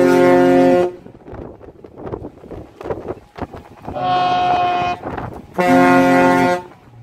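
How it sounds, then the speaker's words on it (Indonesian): A Pelni passenger ship's horn gives three loud blasts with gaps between them, a long one, a shorter one, then another long one, with quieter background noise in the pauses. "Jika kapal bunyikan 1 panjang dan 1 pendek saling berbalas"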